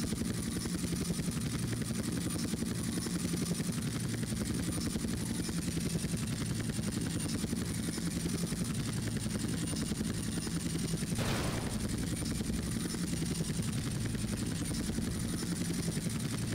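A helicopter in Grand Theft Auto: Vice City Stories gives off a steady, continuous rotor and engine drone at moderate level, unbroken for the whole stretch, with a brief burst of noise partway through.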